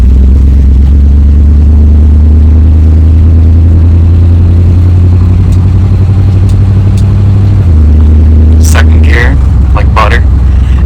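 A 1972 Dodge W200 Power Wagon on stiff leaf springs drones steadily from the cab while driving, its low engine note holding loud and even, then dropping in pitch near the end as a voice speaks briefly over it.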